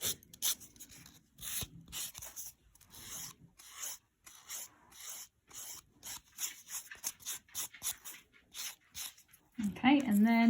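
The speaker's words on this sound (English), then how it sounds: "So I'm going to go over with my buffer." A nail buffer rubs over a fingernail after acrylic or gel polish removal at home, giving quick, close, dry rasping strokes in an uneven rhythm of bursts and short pauses, with a louder scrape near the end.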